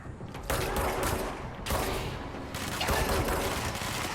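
Gunfire and explosive bursts from a grenade in the action video game Control, a dense, loud barrage with sharp onsets around half a second, 1.6 and 2.5 seconds over continuous rumbling combat noise.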